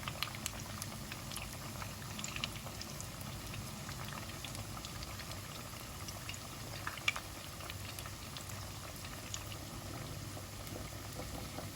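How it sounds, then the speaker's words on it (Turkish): Cauliflower frying in hot oil, giving a continuous soft bubbling hiss with faint scattered pops, steady and fairly quiet throughout with no voices. "Bunlar tamamen kızardı."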